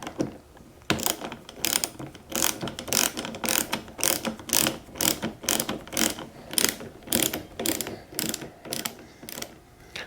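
A ratchet tightening down a Goldstrike chrome flag pole mount on a 2001-2017 Honda Goldwing, clicking in quick repeated bursts of sharp ratcheting strokes, close and steady, with no talk.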